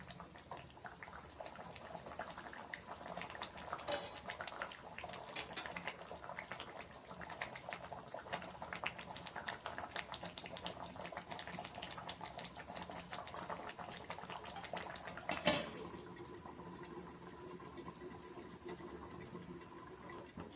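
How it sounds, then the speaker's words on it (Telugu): Andhra-style fish curry simmers on low heat in a pot with a soft, continuous bubbling and faint popping, quiet and steady, with a brief louder knock near the end. "ఇప్పుడు ఈ స్టేజ్లో మనం ఒక 10 నిమిషాలు సిమ్లో పెట్టేస్తే పులుసు ఇంకా చిక్కబడుతుంది"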